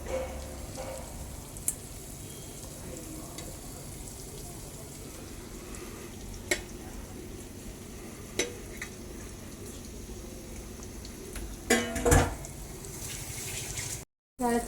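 Pieces of fish go into a simmering fish curry, with a steady low bubbling sizzle throughout and scattered close plops and splashy clicks as they land and are stirred.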